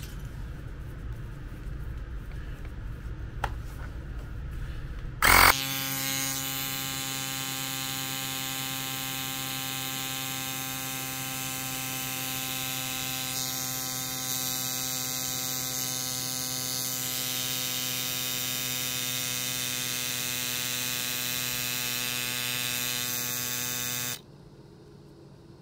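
An electric pump inflating a tire kicks on with a click and runs as a loud, even, buzzing drone for about twenty seconds, then cuts off abruptly.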